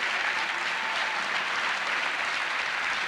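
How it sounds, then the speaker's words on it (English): A school district audience applauds retiring staff at an awards event, a steady, dense wash of clapping that holds evenly for the whole stretch with no voices over it. "how about a great round of applause for these individuals?"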